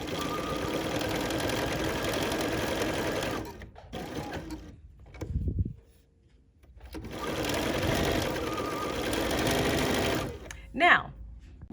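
A sewing machine stitches knit fabric in two steady running bursts with a mechanical hum, separated by a quiet pause with brief handling noises and a short squeak near the end.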